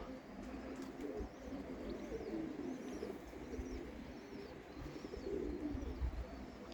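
Soft pigeon cooing repeats outdoors over a low rumbling background, with faint chirps mixed in; domestic pigeons including a crowned pigeon.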